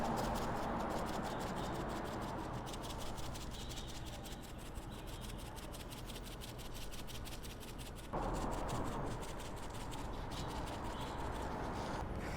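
Seasoning rub is worked by hand onto a beef brisket coated with a binder layer, giving a soft continuous rubbing and scratching sound that is close and quiet, with a brief pause partway through.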